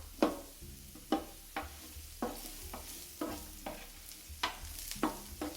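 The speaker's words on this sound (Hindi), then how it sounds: "जब ये ऑयल गर्म हो जाए तो इसमें आपने ऑनियन डाल देना है" Finely chopped onion fries in hot oil in a pan, giving a continuous sizzle. Repeated scraping stirs punctuate it about once a second, close and moderately loud, with no talking.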